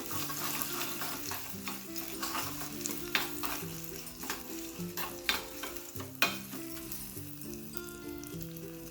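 A spoon stirs dhokla ingredients with salt and sugar in a bowl, making repeated light scraping clicks at an uneven pace beneath a steady background music bed.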